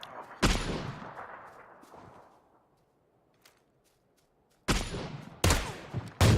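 Gunfire in the PUBG video game: a loud shot with a long fading echo, a stretch of near silence, then three more sharp reports in quick succession near the end, no talk.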